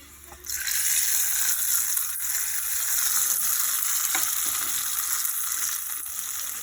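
A hot tempering is poured into cooked brown chickpea (kala chana) dal, setting off a loud, steady sizzle with hissing and bubbling that starts suddenly and carries on close up without pause.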